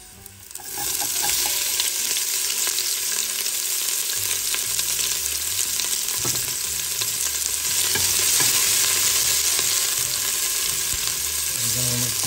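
Onions sautéing in a pan for a seafood soup, a steady close sizzle of frying with scraping stir strokes throughout, no talking.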